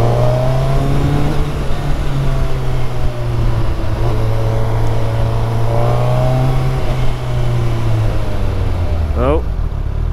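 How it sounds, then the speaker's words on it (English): A 2022 Suzuki Hayabusa fitted with a double Akrapovic exhaust pulls hard on a test ride, its engine note rising and falling steadily for several seconds with a brief shift near the end. "It's got a double Akrapovic exhaust on, which sounds absolutely amazing."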